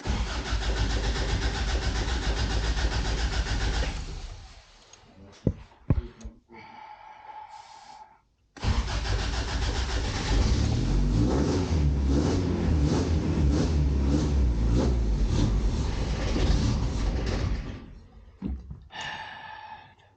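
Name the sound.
classic Toyota pickup truck engine starting and revving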